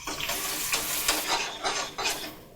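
Onions frying in a pan with urad dal and garlic for a potato roast, a steady close sizzle with occasional stirring scrapes running throughout, no talking.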